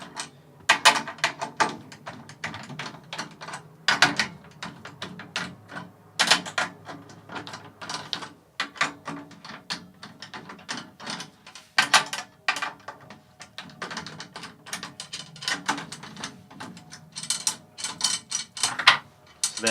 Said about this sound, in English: take the drum key and loosen off all of the lugs on the batter head,